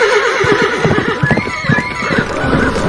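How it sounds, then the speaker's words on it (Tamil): Horses approach with clip-clopping hooves and repeated neighs and whinnies, a loud, busy audiobook sound effect that runs continuously through the moment. "அந்த நேரத்துல சில குதிரை வீரர்கள் வர சத்தம் அவர் காதுல கேட்குது"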